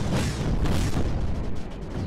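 Missiles firing in Creeper World 4, a dense rumbling barrage of overlapping booms and bursts, loud and continuous for a couple of seconds.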